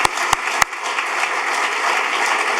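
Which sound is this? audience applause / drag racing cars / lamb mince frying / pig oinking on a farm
audience applause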